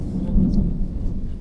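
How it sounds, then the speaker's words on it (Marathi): Loud, deep thunder rumbles near a riverside village during a fishing trip, one long low roll that swells and fades without a sharp crack. "खूप जोरात वीज कडकडते."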